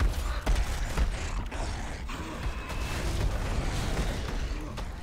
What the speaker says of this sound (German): Karl hat die Tür aber aufgemacht